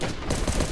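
Rapid burst of gunfire from a gun in the survival game Last Day on Earth, a dense, loud cluster of shots lasting under a second.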